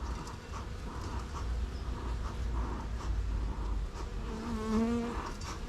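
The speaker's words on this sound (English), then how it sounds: "give it a nice firm tap to get most of the bees off" Honey bees buzz loudly throughout a hive inspection, a thick steady drone with single bees droning close by near the end.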